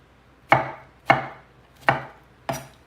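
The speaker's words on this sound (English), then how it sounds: "All right, all of these strawberries are now diced and can go into a bowl" A knife dicing strawberries on a cutting board, four crisp, evenly spaced chops close up, each with a short ringing decay, and no voices.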